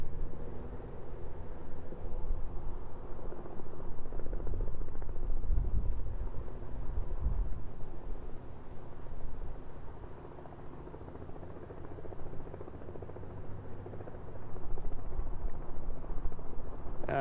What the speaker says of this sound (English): I hear helicopter.